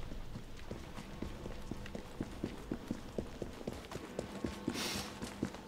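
Steady clip-clop of horse hooves at a galloping pace in Assassin's Creed Syndicate, evenly spaced beats over a constant background hum, with a brief hissing burst near the end.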